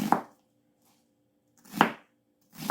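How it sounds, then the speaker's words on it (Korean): A knife chops through an onion on a cutting board as seasoning for green onion kimchi, three sharp, separate thunks spaced well apart, close and clear with silence between them. "갈리기 좋게 이렇게 썰어서 넣겠습니다."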